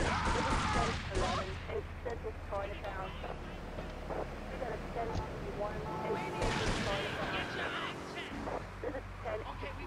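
Gunfire in Grand Theft Auto III, scattered shots and bursts under a player's steady talking, with rushing wind-like game ambience and engine rumble throughout at moderate level.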